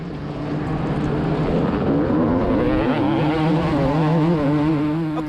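Two-stroke motocross bikes, including a 2006 Suzuki RM 250, race past with a loud, buzzing, revving drone whose pitch wavers and climbs as throttles open, steady and close throughout.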